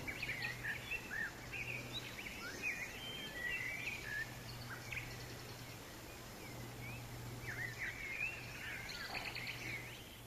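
Birdsong on an OO scale model railway layout, several birds chirping and trilling at a moderate distance over a low steady hum and a faint outdoor background.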